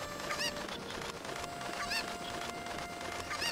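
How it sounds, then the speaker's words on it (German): Chickens cluck in the video game The Legend of Zelda: Ocarina of Time, a few short honking squawks repeating over a steady background of game sound. "da oben ist auch ein Huhn"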